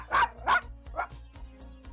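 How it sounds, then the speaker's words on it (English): A Chihuahua, a small dog breed, barks in quick, sharp yaps: two strong barks close together, then a third softer one, followed by fainter yips trailing off, all close and with no talk. "Chihuahuas are small, comical, entertaining, and loyal little dogs."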